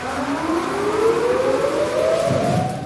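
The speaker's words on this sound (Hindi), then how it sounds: "भारी बारिश को लेकर शहर में सायरन बजाए जा रहे हैं।" A civil defense siren wails steadily across a city during heavy rain, its tone climbing slowly in one long, loud, unbroken rise.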